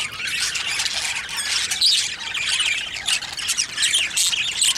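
Pet birds kept in breeding pairs squawk loudly and continuously nearby, their harsh, overlapping calls forming a dense chorus with no talking.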